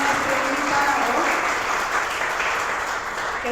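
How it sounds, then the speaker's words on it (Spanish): An audience at a book presentation gives a writer a strong farewell round of applause, steady and close throughout. "vamos a darle un fuerte aplauso de despedida a nuestro escritor y nuestro invitado"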